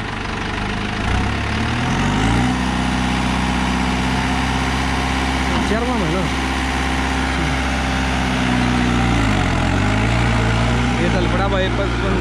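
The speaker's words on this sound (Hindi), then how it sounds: "तमन में ट्रैक्टर चल पड़ा, यो फोर व्हील ड्राइव में चल रहा है फिलहाल ये ट्रैक्टर" A New Holland 5630 four-wheel-drive tractor engine revs up to about 1800 RPM and settles into a heavy, steady diesel throb, loud and near, with a voice briefly heard over it.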